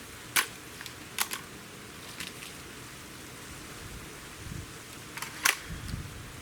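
Hatsan 95 QE air rifle firing, a sharp crack followed by a few fainter mechanical clicks and ticks against quiet background hiss, no voices.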